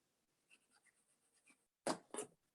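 Pencil or pen drawing a picture on construction paper or cardstock: faint soft scratches at first, then two louder, close scribbling strokes, with no talk.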